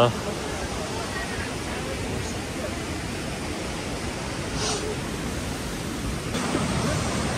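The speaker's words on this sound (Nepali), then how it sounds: "यो रहेछ त्यो झरना" Steady rushing water from a small waterfall at a trail stop on the North Annapurna Base Camp trek in Nepal fills the scene with a constant broadband wash, faint voices blending into the background.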